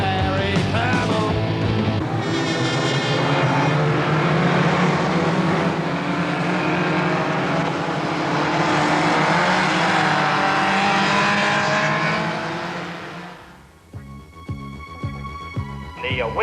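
Racing cars roar continuously in an evening race, loud engine noise with shifting revs sustained for most of the stretch before dropping away near the end.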